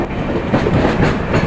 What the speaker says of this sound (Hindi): सेलम से अपनी ट्रेन जो है वो खुल चुकी है